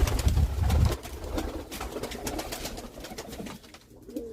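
Pigeons coo inside a pigeon coop, giving soft low repeated coos up close with some rustling and faint chirps over a steady background, with no talking.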